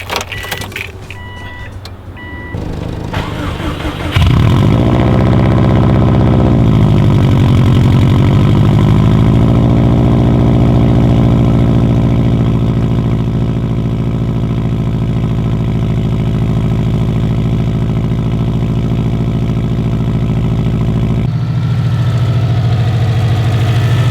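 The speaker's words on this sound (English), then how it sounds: "it's gonna be a very loud cold start." A Subaru STI cold-starts in freezing weather around 20 degrees: starter cranking, then the engine catches loudly and settles into a high, steady, droning fast idle, close and alone.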